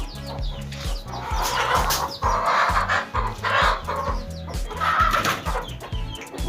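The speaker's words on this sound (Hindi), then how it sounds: "ये है मुर्गी।" A chicken clucks repeatedly up close, in quick, uneven bursts of short throaty notes.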